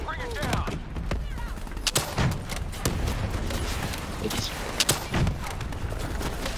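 Call of Duty Black Ops 3 gunfire, a steady run of sharp close shots with several louder cracks, mixed with game sounds and occasional talk.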